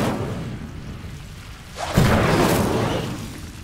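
A fire spell cast in the Hogwarts Legacy video game, a sudden whooshing burst of flame that erupts loudly after a quieter lead-in and then lingers as a roaring rumble.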